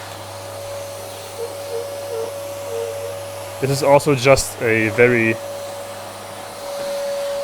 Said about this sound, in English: fast vacuum move here.